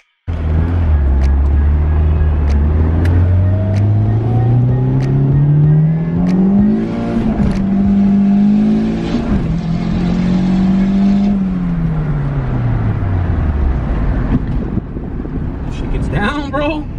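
A boosted, street-tuned Honda Civic wagon revs hard through its gears. The engine note climbs steadily, drops at a shift, then holds high and loud before easing off near the end.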